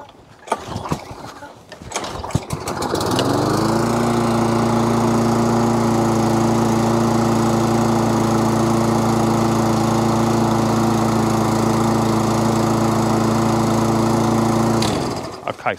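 A Webb lawn mower with a Briggs and Stratton engine, freshly carburettor-cleaned, starts after a few pulls of the recoil cord and settles into a loud, steady running drone before cutting off near the end.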